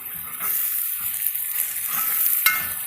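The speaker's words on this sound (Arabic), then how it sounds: "البصله تحمر معايا بالطريقه دي، كميه الزيت تكون مناسبه" Onions frying in a moderate amount of oil in a pan while being stirred, giving a soft continuous sizzle with light scraping strokes and one sharp clink near the end, close and unaccompanied by speech.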